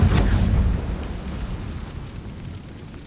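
Confringo fire spell from the video game Hogwarts Legacy exploding, a deep booming burst that rumbles and fades over a few seconds.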